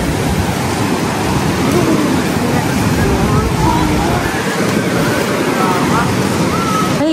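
Ocean waves breaking on the beach at Baler at high tide, a loud, continuous roar of surf mixed with gusty wind buffeting the microphone, with faint voices sometimes audible underneath.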